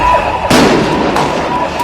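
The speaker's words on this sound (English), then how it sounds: "The sound of gunfire echoing through the streets of Nairobi." Gunshots ring out in the streets of Nairobi: about three loud, sharp cracks spaced under a second apart, each echoing off surroundings, with a low background rumble.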